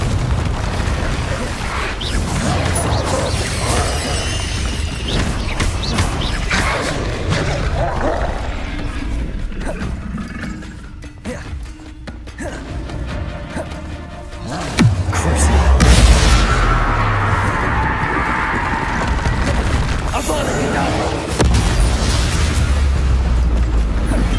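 The Confringo fire spell blasts and explodes in Hogwarts Legacy combat on PS5, with dense booming bursts layered over continuous game music and battle noise. A deep, heavy impact lands around the middle of the sequence.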